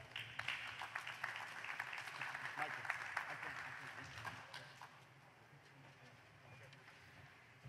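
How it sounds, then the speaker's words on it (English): Applause at an outdoor groundbreaking ceremony for port infrastructure projects in Pharr, a faint, scattered clapping from a small crowd that thins out over several seconds, with wind noise and some voices. "A round of applause, please."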